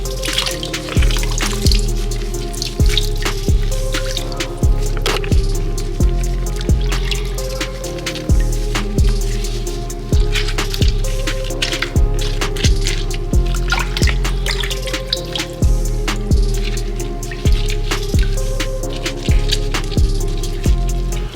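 Tap water runs and drips while chicken wings are rinsed clean, a loud, close splashing with a repeating, uneven rhythm of drops and handling clatter, no talk.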